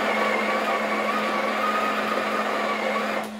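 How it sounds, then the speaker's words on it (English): Built-in grinder of a Breville Oracle BES980 espresso machine running steadily with a constant whirring hum, close and moderately loud, winding down right at the end. "Please only change the grind size with the grinder grinding."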